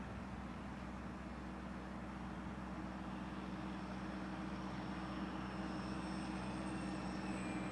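A 1.5-meter RC model Air Tractor airplane flying with full flaps, a steady distant engine drone that holds at an even level throughout.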